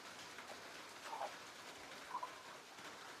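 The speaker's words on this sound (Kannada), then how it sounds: "ಮಳೆ ಬಂತು" Rain falling during the afternoon while laundry is being washed, a steady soft hiss of drops on surfaces, fairly faint and continuous, with a couple of brief faint chirps and no voices.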